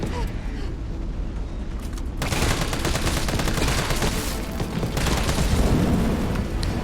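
Sustained bursts of assault rifle gunfire in the video game Resident Evil 3 Remake, loud and dense, rattling continuously under game noise and a talking voice.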